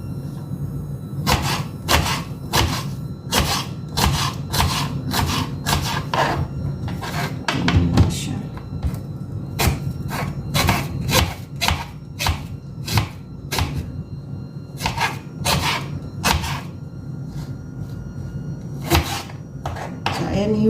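A knife chops three green apples into small cubes on a board, with rapid, steady hard taps in bursts and brief pauses, fairly close and clear throughout.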